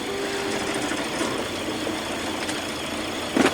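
Sailboat engine running steadily in reverse while setting an anchor from a single bow cleat, a constant mechanical drone with wind noise over it and a brief clunk near the end.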